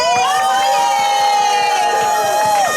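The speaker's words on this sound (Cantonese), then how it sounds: "俾啲掌聲！" A crowd at the ASICS Kumamon Run 2025 in Hong Kong cheers loudly and continuously, with high shouts and whoops carrying over the steady roar of the gathering.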